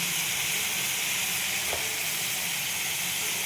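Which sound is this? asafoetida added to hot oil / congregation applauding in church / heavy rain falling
asafoetida added to hot oil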